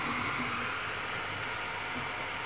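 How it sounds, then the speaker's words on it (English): A 3D printer whirs steadily after being powered back on, a dense continuous fan-like hiss and hum close by, unchanging for the whole stretch with no voices. "Printer comes back on, ready to go around again."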